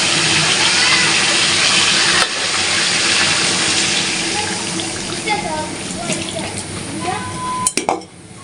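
Water is poured into a pot of desi chicken curry being cooked for boiling, a loud, steady gushing splash that fades into softer bubbling and a few clinks of utensils near the end.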